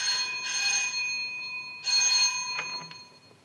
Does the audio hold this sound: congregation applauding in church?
no